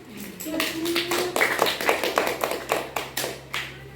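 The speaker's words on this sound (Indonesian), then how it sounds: "Masya Allah, tepuk tangan." A small group of students claps in a classroom microteaching lesson, roughly a dozen distinct near claps in a loose rhythm, with a brief voice and some background noise at the start.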